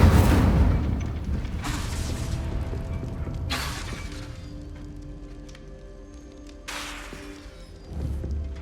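In Hogwarts Legacy, the Incendio fire spell is cast repeatedly: sharp, bursting whooshes with crackling, shattering tails that arrive about every two seconds, each fading before the next.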